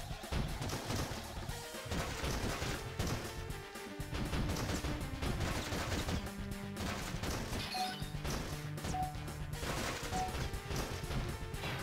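Light-gun shots ring out in the PS1 shooting game Point Blank, sharp cracks and crashing impacts coming in quick, irregular bursts over game music and effects.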